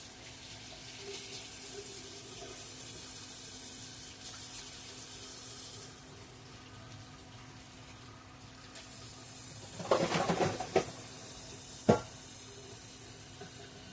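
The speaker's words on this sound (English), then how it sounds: "Okay, we got the water on" Tap water runs steadily in a kitchen sink while filling a pot for spaghetti, a faint hiss throughout, followed by a few clunks and splashes near the end.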